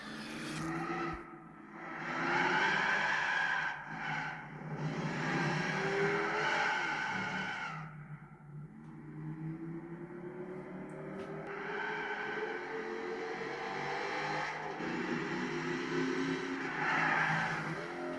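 Engines of 1960s American cars roar through a racing video game, rising and falling in long sustained revving sweeps across the whole stretch, loud and close with no talk over them.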